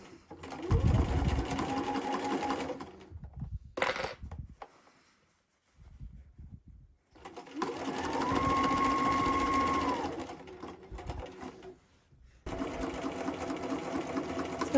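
A sewing machine whirs in several long stitching runs while sewing along the fold line of bias tape onto a hooded towel hood, with brief pauses between runs, close and steady.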